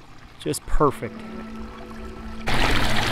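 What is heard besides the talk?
backyard pond waterfall from a fire hydrant fountain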